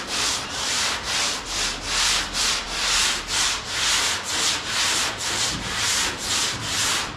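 Longboard sanding block rubbed back and forth over flat panels of a 1972 Blazer body, a steady rhythmic scraping with about a dozen close, even strokes and no talking.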